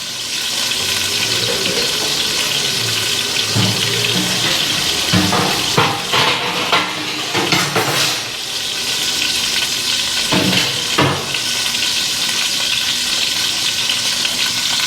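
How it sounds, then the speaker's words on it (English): Chicken searing in a hot pan, a steady loud sizzle throughout, with a few clattering stirs and scrapes rising over it near the middle. "all we're doing is searing this chicken"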